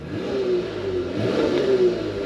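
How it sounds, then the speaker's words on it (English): Engine of a 2020 Lexus IS 300 with a 3.5L V6 revs from idle in a couple of smooth rising and falling pulls, a close, refined mid-pitched hum with no talking. "that thing just sounds so nice and refined, that V6 engine"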